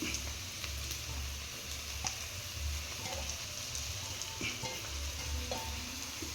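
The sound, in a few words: minced beef frying in a pan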